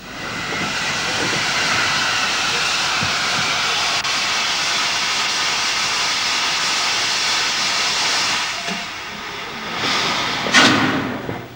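A restored J52 steam locomotive at Hatfield gives off a steady, loud hiss of steam with a low mechanical rumble, easing slightly before a sharp burst of venting near the end.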